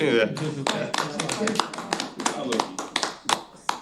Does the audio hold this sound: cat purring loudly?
no